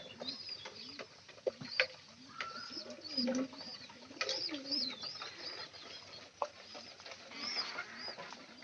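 Pigeons coo repeatedly in soft, rolling calls, with scattered chirps and light shuffling noises around them and no talking.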